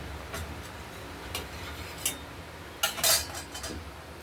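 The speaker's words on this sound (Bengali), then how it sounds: "ঢাকা দিয়ে দিলাম মাছের ঝোলটা" A lid set onto a pot of rui fish curry with potatoes, heard as a few close metallic clinks and a brief clatter over a soft, steady simmering hiss, with no talk.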